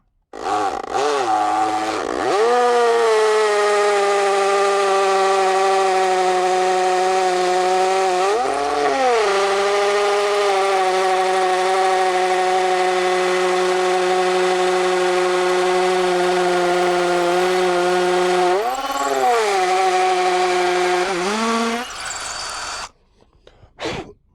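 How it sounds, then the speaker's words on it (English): A hammer drill whines loudly and steadily for a long stretch drilling into a concrete slab, its pitch sagging and recovering a few times under load, then stopping abruptly. "we can start to drill into the slab"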